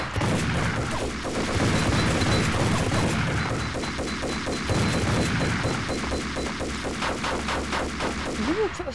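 Sustained gunfire in Max Payne, a dense, loud stream of rapid shots and bursts with crashing impacts running continuously throughout, no talking over it.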